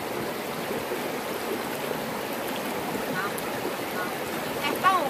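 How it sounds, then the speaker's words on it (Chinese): A steady rush of a waterfall and flowing mountain stream fills the scene, broad and continuous at close range, with faint voices briefly audible near the end. "但最后你看右边有一个瀑布"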